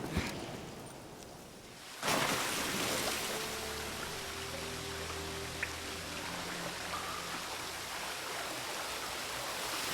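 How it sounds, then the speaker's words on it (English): A waterfall inside a well in the Witcher 3 video game, a steady rushing wash of falling water that starts quieter and jumps up suddenly after a couple of seconds, continuing at an even level with faint game tones beneath. "Listen to the sound of that waterfall."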